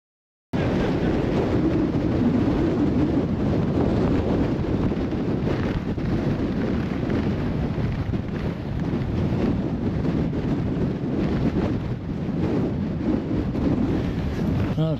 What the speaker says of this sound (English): Very windy up on the summit cone, as you could probably tell.